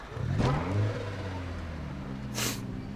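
A car engine in the zombie survival game Project Zomboid turns over and revs in two brief bursts, steady mid-low engine tone in between, fairly close and alone.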